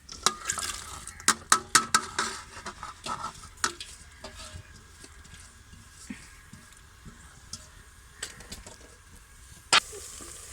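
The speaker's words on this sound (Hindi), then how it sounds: "यहाँ पर प्याज मैंने 5 से 10 मिनट फ्राई कर लिया है।" Three to four medium chopped onions frying in a pan for chicken sobat, a soft continuous sizzle under frequent sharp spoon clinks and scrapes, densest at the start.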